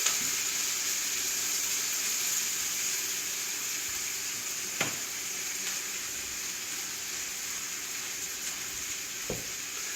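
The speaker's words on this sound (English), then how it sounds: "Stir these onions up." Onions sizzle and sear in a hot pan, a steady bright crackle with two sharp scrapes of stirring, fairly quiet and close with no voices.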